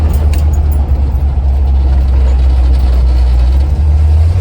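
A 1976 Chevy squarebody pickup driving in third gear, a loud, steady low engine drone with a constant rumble and no pauses.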